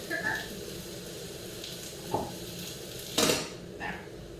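A lid set back onto a cooking pot of spaghetti bolognese sauce, heard as a sharp metallic clank amid soft kitchen clatter and a faint simmer, with a few smaller knocks around it.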